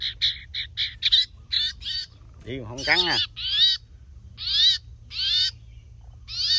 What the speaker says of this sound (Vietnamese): Chim to nha anh em, chuyền xẹt ha.